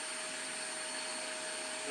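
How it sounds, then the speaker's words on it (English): Seiko shop vacuum running in a woodworking workshop, a loud, steady motor whine with a constant tone, close and uninterrupted with no talk. "I just grab it from underneath the workbench and I can vacuum up the sawdust right there"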